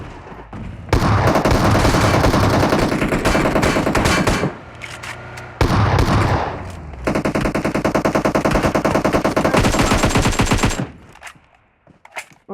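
Gunfire in the video game PUBG Mobile during a squad fight at a shooting range: loud, rapid bursts of automatic fire in long sustained strings, broken by short pauses and a few lone shots, close and dense.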